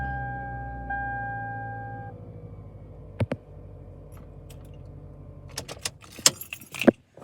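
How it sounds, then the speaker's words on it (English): A key goes into the ignition of a 2006 Toyota Camry and turns, with jangling keys, steady chime tones and a low running hum, then a burst of sharp clicks and rattles near the end. "I'm gonna put my key in ignition, turn it on, and start"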